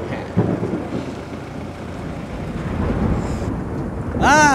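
Low, rolling thunder rumbles steadily as rain approaches outdoors, with a brief voice cutting in at the very end.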